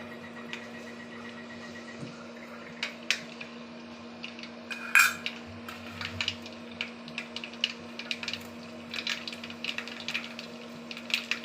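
Mustard seeds and fenugreek splutter in a hot pan on the stove for a fish curry, with scattered sharp pops and crackles over a steady low hum and no voices.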